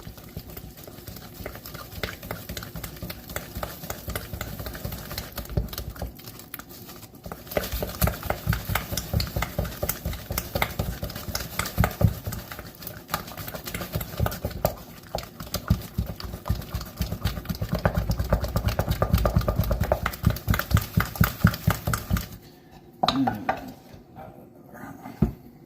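French bread dough of flour and salt is worked in a machine mixer, with a steady whirring drone and rapid rhythmic slapping that runs continuously, then stops abruptly near the end.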